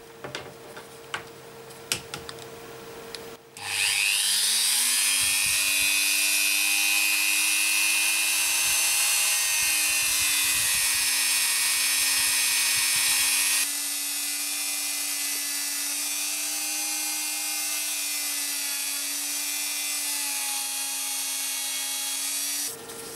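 A power tool whirs steadily as it buffs a metal ace-of-hearts talisman to a shine, a loud, sustained high whine that starts abruptly after a few light clicks and holds for nearly twenty seconds.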